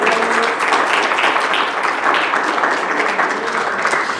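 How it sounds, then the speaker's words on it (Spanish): A church congregation applauds during a sermon, many hands clapping in a loud, continuous, dense wash that holds steady throughout. "Dele el aplauso al Señor."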